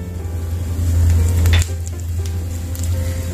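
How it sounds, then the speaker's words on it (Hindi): Panch phoron spices hitting hot mustard oil in a pan give a steady close sizzle, swelling briefly near the start, then settling into a continuous crackling fry with no voices. "अब हम इसमें पांच फोरन डाल के भून लेंगे।"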